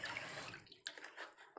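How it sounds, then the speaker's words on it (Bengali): Fish is dropped into very hot cooking oil and sizzles with a bright, steady crackling hiss. The sound is close but quiet and lasts only a moment. "বাবা তেলটা অনেকটা হিট হয়ে গেছিলো, সেই জন্য তাড়াতাড়ি মাছটা ছেড়ে দিলাম।"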